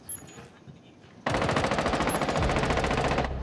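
Rainbow Six Siege gunfire: after two short early bursts comes a long, loud, continuous automatic burst of rapid close shots, with no talking over it.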